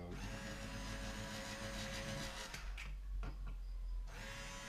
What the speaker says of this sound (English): trying to let the drill do the work, but it's not a very good drill.